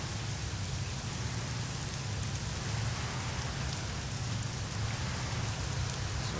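Steady, dense rain pours without pause in the truck-driving game 18 Wheels of Steel Haulin, a constant close wash of drops with no voices or thunder.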